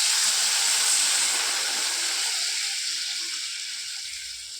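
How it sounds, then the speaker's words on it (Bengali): Water poured into a pan of taro pieces fried in spices gives a loud, steady steaming hiss with a broad sizzle that slowly fades over several seconds, with no talking. "কচুগুলো আমার মশলার মধ্যে কষা হয়ে গিয়েছে, এবার এর মধ্যে জল ঢেলে দেবো।"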